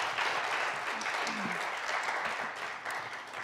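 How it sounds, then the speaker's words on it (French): An audience at an Acadian community centre talk applauds a guest speaker, a steady, even wash of clapping from a roomful of people throughout. "je pense qu'on peut applaudir Georges une autre fois."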